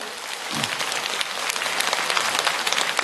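An audience at a Catholic priest's talk breaks into dense, sustained applause that builds slightly and continues for about three seconds, a bright crackle of many hands clapping together.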